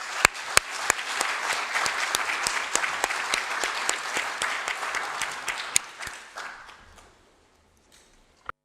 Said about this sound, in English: I think we need to give our young people a round of applause.